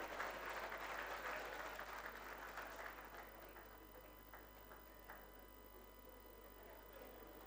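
Audience applause at a conference fades from a moderate, even patter of many hands into a quieter, thinning clap, heard at a distance in a large hall with no voices over it.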